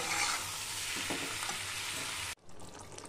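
Prawns sizzle loudly as they are sautéed in a pan of yam curry, a dense steady frying hiss with faint stirring scrapes that cuts off abruptly near the end, leaving a quieter, softer sizzle.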